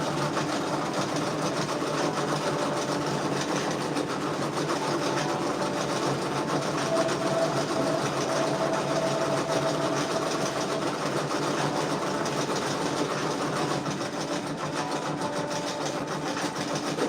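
Two patch-making machines run together in a steady, continuous mechanical whir with a rapid stitching rattle. The sound stays even and close, with no talk over it.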